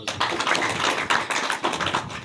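A crowd at a public gathering breaks into dense, continuous applause, the clapping steady and fairly loud with small surges throughout.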